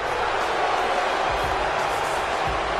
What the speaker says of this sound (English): Would you listen to this crowd?